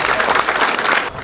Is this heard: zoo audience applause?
yes